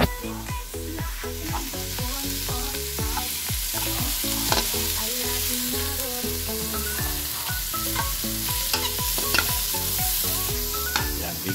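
Garlic, onion and ginger fry loudly in a pan under a dense, continuous sizzle, with rapid repeated scraping and clattering strokes as they are stirred, close up and with no speech.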